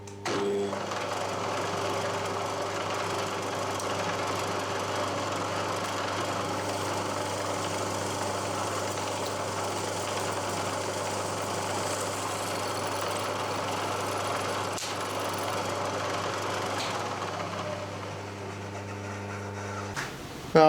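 A DIY drill press turns a 4mm bit at 900 RPM with cutting oil, giving a steady humming motor drone with a faint mechanical whir that runs evenly for about twenty seconds, with no voices.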